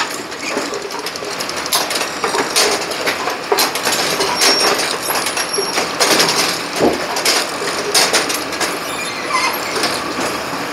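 A Brunswick A2 bowling pinsetter gearbox is cycled after its clutch cone jam nuts are retightened, giving a steady clattering, ratcheting mechanical run with metallic clicks, loud and continuous with no talk.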